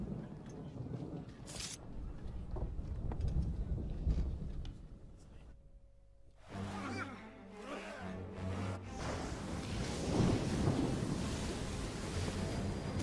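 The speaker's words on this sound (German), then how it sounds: "Atlantischer Ozean, später am selben Tag. In einem Sturm. Mit was weiß ich, wie riesigen Wellen." Stormy Atlantic seas in Assassin's Creed 3, with wind and surging waves washing around a sailing ship; a brief quieter lull gives way to a dense, roaring swell of wind and surf, with a voice speaking over it.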